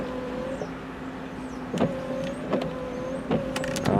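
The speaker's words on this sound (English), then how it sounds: "Here's our wipers." Windshield wipers on a 2004 Chrysler Sebring convertible run with a thin motor whine and a soft thump at each sweep, repeating about every 0.8 seconds, fairly quiet and close inside the car, with no voices.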